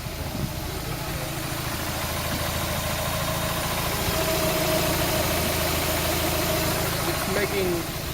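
A car engine with a slight possible knock and some bubbling idles steadily with a low rumbling drone and faint irregular knocking, close by and continuous throughout.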